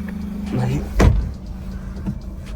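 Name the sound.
Maruti Alto 800 car engine while off-roading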